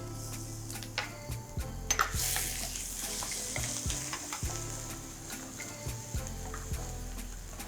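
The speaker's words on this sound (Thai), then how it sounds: "น้ำมันร้อน ใส่หอมกระเทียมลงไปผัด" Shallots and garlic sizzle steadily in hot oil, a dense continuous frying hiss broken by scattered clicks and scrapes of a utensil stirring the pan, close and fairly loud with no talking.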